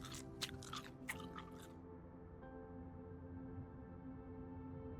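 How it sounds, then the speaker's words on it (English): Chewing and gum-eating in the survival game Road to Vostok: a few crisp, crunchy bites near the start, then quieter soft chewing over a steady low ambient hum. "let's go ahead and eat some food"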